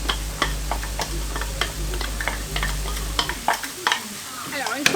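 Garlic and onion sizzle steadily in a hot pan while being stirred, with sharp crackles and the tick of a utensil against the pan over a close, continuous frying hiss.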